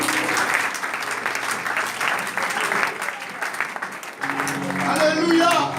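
A church congregation claps steadily and warmly for several seconds, with voices calling out over the applause, which swells again near the end.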